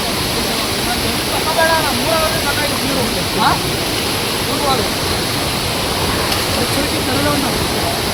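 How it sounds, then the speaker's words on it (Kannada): A small waterfall on a mountain stream crossing in the Western Ghats gives a steady, loud, broadband rushing of water, with faint bird calls and a voice briefly audible over it. "ಒಂದು ವಾಟರ್ ಸ್ಟ್ರೀಮ್ ಸಿಗುತ್ತೆ, ಇದನ್ನು ಕ್ರಾಸ್ ಮಾಡಬೇಕು. ಈ ಥರ ಕ್ರಾಸ್ ಮಾಡ್ಕೊಂಡು ಹೋಗ್ಬೇಕು. ಒಂದು ಸಣ್ಣ ಫಾಲ್ಸ್ ಥರ ಇದೆ"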